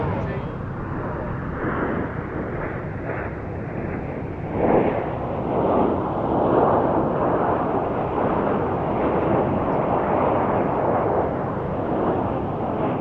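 A Spitfire flying a victory roll over Duxford airfield at an airshow, a distant continuous engine roar swelling and fading, heard under wind buffeting and crowd noise.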